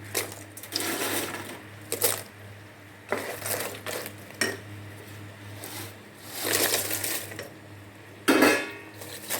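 Sweet pieces stirred in jaggery syrup in a pan, with intermittent scraping and clinking bursts separated by quieter pauses, one sharper clatter near the end.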